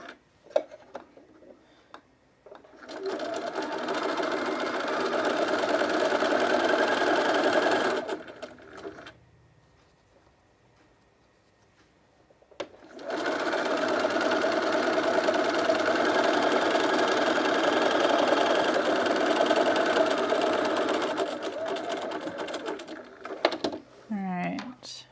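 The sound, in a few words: cover stitch sewing machine stitching underwear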